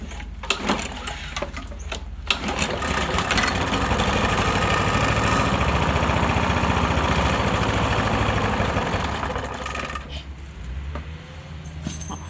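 A Briggs OHV lawn mower engine on a Toro Super Recycler runs at too-low RPM, a loud, steady, rough idle that holds for several seconds before shutting down, with no talking over it.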